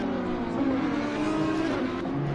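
An NXTGEN race car takes the Melbourne hairpin at Donington Park and climbs toward the final left-hander, its engine a steady, fairly loud drone with shifting pitch throughout, no voices over it.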